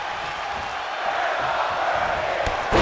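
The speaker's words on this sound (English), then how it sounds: "As you hear the crowd saying they aren't worthy" Wrestling crowd at an SCW Grand Prix event chanting "they aren't worthy" as a sustained, roomy roar of many voices, swelling slightly toward the end with a sharp burst at the close.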